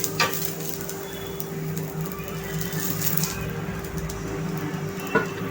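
Chili, garlic and ginger roasting in a pan give a steady, close sizzle with light stirring scrapes, continuous throughout with a couple of sharper utensil clicks.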